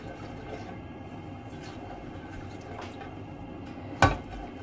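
Chopped large onion dropped into a hot pan of frying cumin seeds for liver masala, a steady close sizzle with a single sharp metallic clank near the end.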